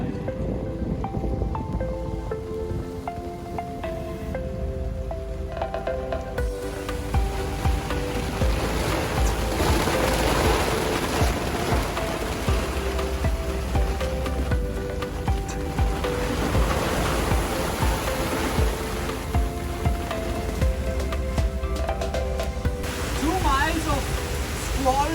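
During a sailing passage from Curacao, wind roars over the boat in a squall and waves rush and crash around it. The sound is a dense, continuous wash of noise with occasional voices underneath.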